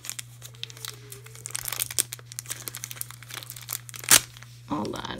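Tape and packaging crinkle and tear in short bursts during unboxing, close and fairly quiet, with a sharp rip near the end over a steady low hum and intermittent talking.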